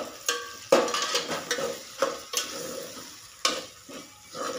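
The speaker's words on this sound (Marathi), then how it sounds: "आता हा मसाला छान भाजून घ्यायचा" Spice masala with turmeric being stirred and roasted in a pan, with a soft sizzle beneath repeated scraping strokes of a spoon against the metal, close and moderately loud.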